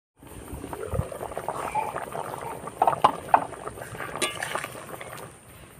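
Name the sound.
taro and fish curry simmering covered in a pot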